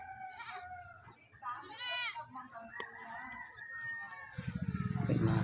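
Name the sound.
goats bleating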